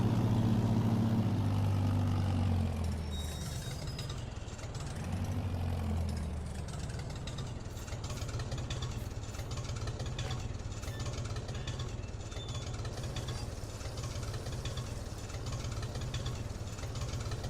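Tractor engine idling in Farming Simulator 22, a steady low mechanical rumble with a loud throaty swell over the first few seconds that settles into an even, continuous drone.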